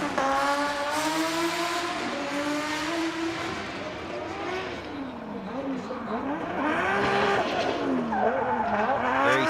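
Drift car on a qualifying run at Okayama International Circuit, engine wailing and bouncing through revs as the tires skid and squeal, with a commentator talking over it throughout.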